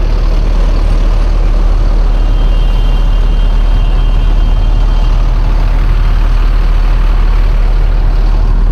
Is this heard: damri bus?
yes